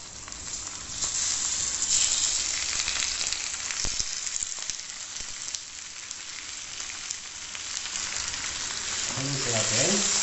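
Pork sizzles and fries steadily in a hot pan for a Filipino pork provincial dish, with a constant close crackle and a few louder pops, and a faint voice briefly heard near the end.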